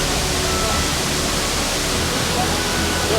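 Yebulan waterfall in Bali, a close, dense, unbroken roar of falling water filling the short stretch.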